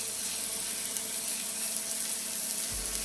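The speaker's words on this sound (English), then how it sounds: "Okay, I just flipped the steak." A peppercorn-crusted New York strip steak sizzles in a pan just after being flipped, a steady broadband frying hiss that stays constant throughout.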